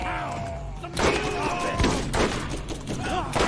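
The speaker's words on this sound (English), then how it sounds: "there's some tricks you can do with the shotgun, and they behave very weirdly" Shotgun blasts in a video game ring out three or four times, each a loud booming crack with a decaying tail, spaced roughly a second apart over constant game noise, with a voice talking throughout.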